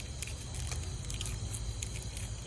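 Dry, brittle crunching and crackling in quick, irregular bursts, close up, over a steady low rumble, with no voices.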